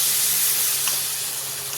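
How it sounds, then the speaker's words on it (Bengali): Water hits a hot pan of fried pointed gourd, potato and soybean chunks with a loud, sustained steam hiss and sizzle, close up and steady throughout with no voices. "তো এখানে দিয়ে দিচ্ছি একটু জল।"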